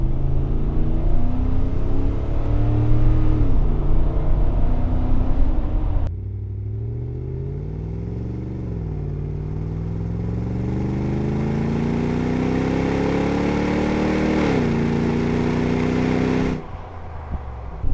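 A first-generation Toyota Sequoia fitted with a Dirty Deeds Industries exhaust drives by, a loud, steady low rumble whose pitch climbs and dips through shifts as it accelerates, with no talking over it.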